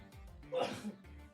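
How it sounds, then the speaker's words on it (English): A single sneeze, close to the microphone and fairly quiet, bursts out abruptly mid-clip with a short breath before it, indoors at a desk recording. "I need to sneeze."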